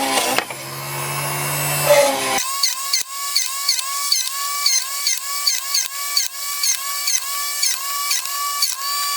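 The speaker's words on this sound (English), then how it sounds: "we're over here at the drill press now, and what I want to do is" A drill press drilling entry holes for a birthday project: a steady motor whine at the start, then a rapid run of regular, evenly spaced mechanical clicks and squeals as the bit cuts, close and fairly loud, with no talking.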